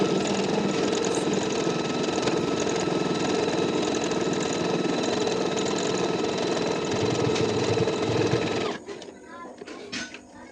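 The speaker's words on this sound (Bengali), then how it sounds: "এই যে এটা হচ্ছে 23 নাম্বার ওভারলকটা" A size 23 overlock sewing machine stitches a dress with a dense, continuous, fast whirring rattle close by, cutting off near the end with a few soft handling sounds while someone speaks.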